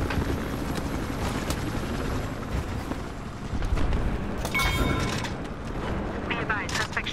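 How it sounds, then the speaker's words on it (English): Helicopter rotor drone in the Battlefield Hardline heist defense game, a steady chopping rumble under mixed combat noise with scattered gunfire bursts and voices talking over it. "it looks like they have a chopper on the way"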